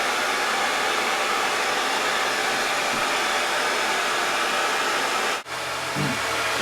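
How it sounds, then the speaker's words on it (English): A hair dryer fitted with a diffuser blows steadily and loudly up close while drying wavy layered hair, a constant whooshing roar that cuts off abruptly near the end, leaving a faint low hum. "just set the hair in the diffuser like so"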